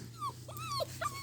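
A puppy gives a few quiet, high-pitched yips and whimpering cries in quick succession over a low steady background hum.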